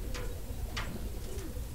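Tippler pigeons coo in a loft, giving a few soft, rolling calls close by with a steady low background hum and no talk.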